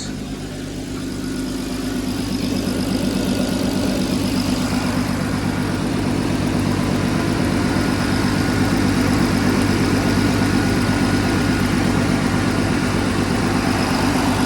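A turbocharged VW Golf R32 MK5 engine idles steadily with a low, even rumble and a cooling fan whirring alongside, close up and continuous with no talking.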